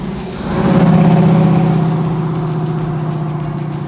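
A 1969 Ford Mustang Mach 1 fastback with a 428 Cobra Jet V8, pro-touring build, rumbles loudly up to a steady rolling drone, engine swelling early then holding a lower cruise note.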